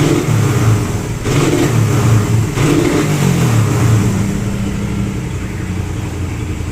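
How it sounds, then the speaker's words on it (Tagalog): A Raider 150 carbureted motorcycle revs up and down close by, its engine sputtering and misfiring with a rough, choking note through each rise and fall. "pagka nire-rev siya, parang nga siyang humahagok yung pumapalya."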